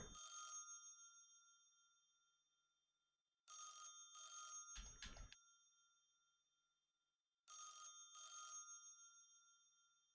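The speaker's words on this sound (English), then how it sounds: "Come on, that telephone noise." A telephone rings in repeated double bursts with pauses between, each ring decaying slowly; a short thump interrupts once. No talking.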